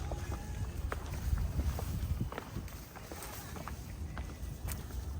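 Gusty wind on a cliff trail rumbles across the microphone in uneven buffeting waves, with faint scuffing footsteps mixed in and no clear talk.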